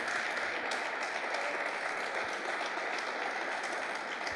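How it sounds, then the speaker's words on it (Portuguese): A church congregation claps in continuous applause, a steady wash of many hands heard from some distance, even in level throughout. "Podes aplaudir porque Ele é grande."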